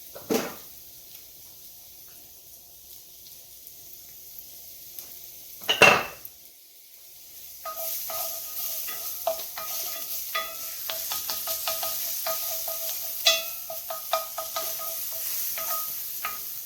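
Garlic sizzling in oil in a pan while cooking Sicilian rice balls, a steady soft crackle with clinks of a utensil stirring against the pan and one loud knock of cookware.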